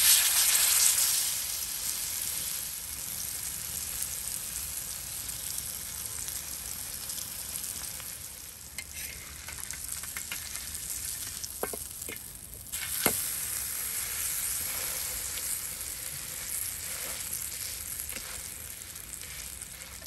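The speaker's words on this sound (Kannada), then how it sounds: "ಮೀನು ಒಳ್ಳೆ ರೀತಿಯಲ್ಲಿ ಫ್ರೈ ಆಗಿದೆ" Kingfish pieces frying in ghee in a pan, Mangalorean ghee roast style, giving a continuous close, bright sizzle that fades slightly midway, with a few brief clicks from turning the fish.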